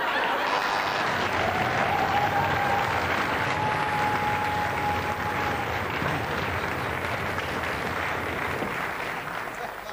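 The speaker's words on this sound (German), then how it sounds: "Wenn sogar die Kandidaten bei sowas klatschen, Jan, dann muss es ja wohl in Ordnung sein" Studio audience and contestants clapping on a German TV game show, a moderate continuous applause with a few light chuckles mixed in and a faint tone briefly audible.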